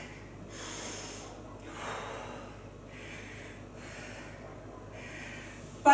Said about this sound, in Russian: Вдох, выдох.